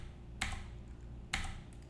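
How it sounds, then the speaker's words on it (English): Two sharp key presses on a computer keyboard, nearly a second apart, clicking close by over a low, steady hum. "hit W on my keyboard"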